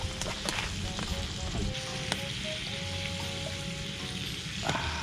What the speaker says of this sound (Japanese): まだ煮込みます。